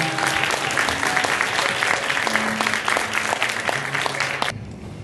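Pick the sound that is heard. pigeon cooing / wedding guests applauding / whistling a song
wedding guests applauding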